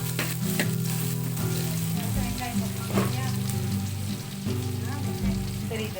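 Steady, close sizzling and crackling of cumin seeds frying in hot melted butter, continuous throughout with a faint low hum underneath and no talking.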